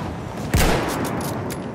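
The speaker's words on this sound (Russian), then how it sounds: "Пулемет!" Gunfire in Battlefield 1, a sharp loud shot with a booming tail standing out from a steady background of distant battle noise, with fainter cracks following.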